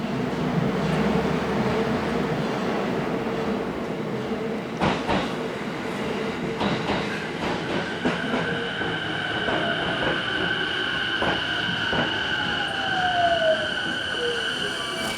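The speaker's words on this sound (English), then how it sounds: "So here comes the train, but that's not my train." A train pulls into a station platform in Ome, Japan, bound for Okutama, with loud rumbling wheels, rhythmic clicks over rail joints and rising squeals and whines as it slows close by, heard without speech.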